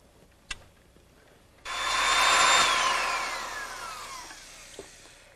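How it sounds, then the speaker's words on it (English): A rented right-angle drill with a 7/8-inch auger bit, running at low speed, bores through wood framing beside a doorway, a loud steady whine rising in to a sustained grind for about three seconds, then winding down as the motor slows. "I'm using a right-angle drill that we rented. It has a 7/8 inch auger bit, and it runs at a low speed"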